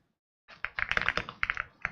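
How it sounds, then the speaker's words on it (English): Fast, uneven clicking of keys on a computer keyboard at an all-in-one desktop, close and fairly quiet, arriving in irregular bursts after a brief silence. "Oh, I gotta use this keyboard."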